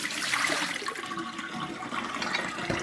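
Water poured out of a nearly full one-litre measuring cup, a steady close splashing gush into a sink or basin lasting a few seconds before tapering off, with no voices.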